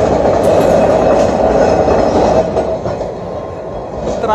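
A tram rolling along a Milan street, loud and close, with a steady rumbling clatter of wheels on rails that eases slightly as it passes.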